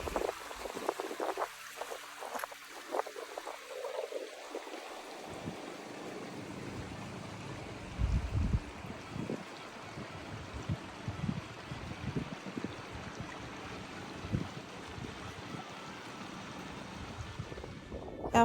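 Water of a creek running again after dry spells on a rocky rural property, a soft steady wash and trickle of flow with scattered low bumps and brief handling noises near the start.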